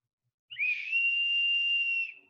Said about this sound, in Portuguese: Ele é um apito.